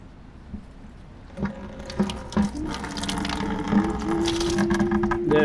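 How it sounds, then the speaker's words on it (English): Antifreeze trickles and splashes from an opened radiator drain plug on a Nissan Xterra, Frontier or Pathfinder, a steady close pour with a few clinks of metal at the start. "We can unscrew this plug over here and drain all the antifreeze out."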